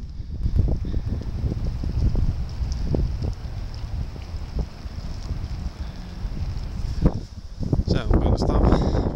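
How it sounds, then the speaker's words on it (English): Strong gusty wind on a rainy day buffets the microphone with loud, irregular rumbling blasts, and a rustling burst comes near the end. "Just to show you guys how windy it really is"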